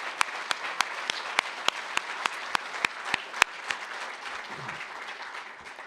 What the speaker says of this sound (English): Can we have one more round of applause for all of these fantastic speakers and for Lisa